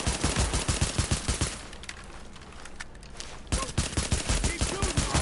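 Rapid sidearm gunfire in the video game Tom Clancy's The Division, loud, close bursts of shots in quick rhythm that pause for about two seconds, then resume just as densely.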